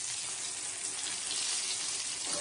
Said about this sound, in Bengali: তো আগে বেগুনগুলো চলো ভেজে নিই ভালো করে